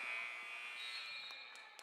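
A sustained electronic buzzer sounds in a gym at a girls' high school basketball game, marking the end of the first quarter, a steady loud tone lasting under two seconds with faint crowd noise beneath.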